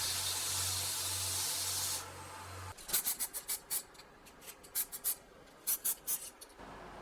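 Aluminum belt pulley with sheet-metal flanges, sandblasted and spray painted: a steady hiss of aerosol spray for a couple of seconds, then a run of short, separate spray bursts, each one close and fairly loud.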